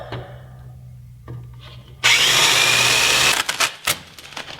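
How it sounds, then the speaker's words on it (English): Power drill boring out holes for nutserts on a Jeep Cherokee XJ during a rock slider install, one loud sustained high-pitched drilling burst after a low idle hum, ending in short grinding spurts. "So I will drill those out now"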